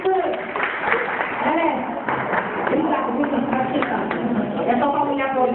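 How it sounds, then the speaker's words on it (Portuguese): Women in a church marriage-themed gathering clap for the men, giving scattered sharp claps mixed with overlapping voices and chatter throughout. "vamos dar uma salva de palmas, mulheres, pra esses homens aí"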